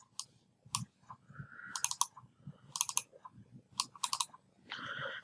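Computer mouse clicking in short close bursts of crisp clicks, with a brief faint electronic tone near the end.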